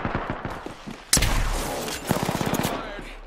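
Rapid automatic gunfire in Apex Legends, loud and close, bursts of quick shots with a heavy impact boom partway through, mixed with faint voices in the background.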